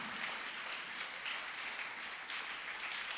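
A church congregation applauding, a dense, steady wash of clapping from many hands that fills the room evenly throughout, with no other sound standing out.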